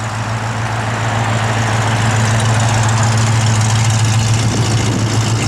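A 1966 Ford Mustang engine idling, a loud, steady low rumble close by with a constant deep hum and no voices.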